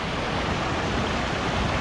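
A cold mountain stream flows steadily nearby, a dense, continuous rush of water with no break and no voices.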